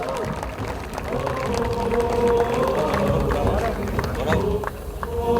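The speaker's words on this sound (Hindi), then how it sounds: "तालियां ऐसी बजती रहनी चाहिए।" An audience applauds and cheers at a navy base event honoring officers and sailors, a steady wash of clapping and crowd noise filling the space, with voices mixed in throughout.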